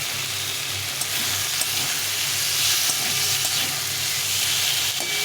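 Chopped tomato dropped into hot spiced oil in a pan sets off a loud, steady sizzle and hiss with light stirring clatter, close and continuous, no talking over it.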